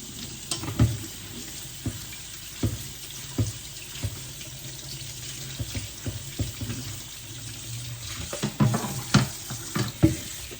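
Running tap water splashes over vegetables being rinsed in a sink while cooking healthy greens, a steady close stream broken by irregular clatters and splashes that swell louder near the end.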